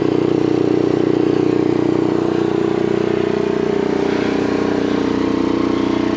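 An Onan LP generator on an RV runs nearby with a constant steady drone and a slight mechanical rattle, unchanging throughout.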